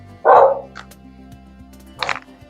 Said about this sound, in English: the dog's whining because somebody's outside.